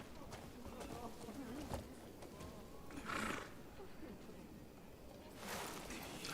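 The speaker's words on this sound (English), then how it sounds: "let's get my horse." Horse neighing and whinnying in a video game, a few calls breaking through mid-clip and near the end over dense game ambience and hoof noise, with a voice talking over part of it.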